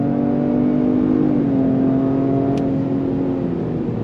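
Lincoln Aviator luxury three-row SUV with 20-inch wheels accelerating under throttle, a steady loud engine hum from inside the cabin with a smooth pitch drop as it shifts gears, no talk.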